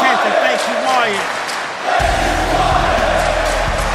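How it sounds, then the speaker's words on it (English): Wrestling arena crowd at a WrestleMania-style event chanting in tribute to Bray Wyatt, a loud massed roar of voices with rhythmic chanting and cheers, a commentator's voice heard over it at first. "the crowd here is chanting, thank you, Wyatt"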